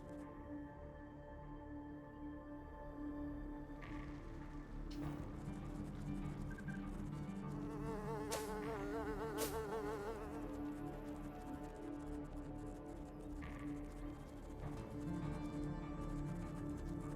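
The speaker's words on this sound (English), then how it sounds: "It's mostly just background" Steady insect buzzing drones throughout as background ambience in the Wii game Deadly Creatures, with a continuous layered hum and a few brief brighter swells, no voices.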